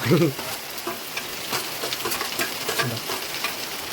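Chopped onion, ginger, green chili and garlic sizzle steadily in hot oil in a pan while being stirred for a chicken curry, with a few soft scrapes and clinks of the spoon over the continuous frying hiss.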